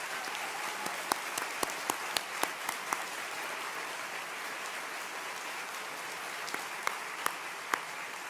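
An audience at an arts leadership event applauds arts council members as they stand, a sustained wash of clapping from many hands, fairly distant and even, with a few sharper individual claps standing out.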